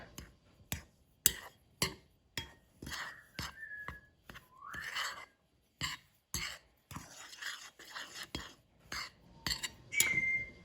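Yellow cake mix and ground cloves being stirred together in a bowl, with a quick run of sharp utensil clinks and scrapes against the bowl, close and fairly quiet, and a few brief squeaky tones between strokes.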